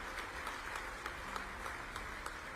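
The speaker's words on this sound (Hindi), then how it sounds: "तालियां बजा के स्वागत कीजिए, अभिनंदन कीजिए उनका" An audience at a government event in Bhopal gives sustained applause welcoming a sports minister. The even, dense crowd clapping is heard at moderate distance without speech.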